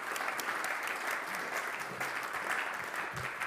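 An audience at a book presentation about Vienna claps steadily and fairly loudly throughout, a continuous wash of many hands with no break.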